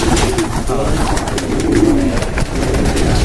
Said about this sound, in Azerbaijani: doğrudan da maraqlı quşlar var